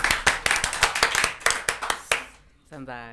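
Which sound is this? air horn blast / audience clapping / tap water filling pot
audience clapping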